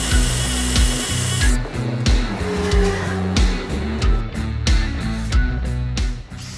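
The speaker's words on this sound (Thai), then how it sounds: "ตรงนี้ผมก็ เจาะเสานะครับเพื่อที่จะ ดึงวงกบให้ได้ระดับนะครับ" A power drill bores into a concrete post for a door frame during house construction, its motor whining and grinding loudly in rising and falling bursts close by.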